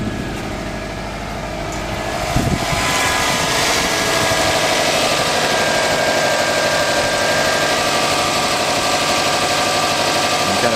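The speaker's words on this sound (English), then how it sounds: "The engine runs just fine without the cell on." A sports car engine fitted with an HHO cell, switched off, idles steadily with a low rumbling drone and a faint whine, close and unchanging after a brief bump in level early on.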